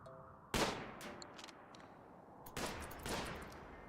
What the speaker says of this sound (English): We're gonna try and shoot the Mega Sloth.